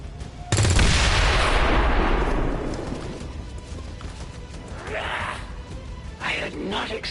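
A Claymore explosive shot in XCOM 2: War of the Chosen goes off as one sudden loud blast that rumbles and fades over a few seconds, followed by fainter scattered crashes and debris.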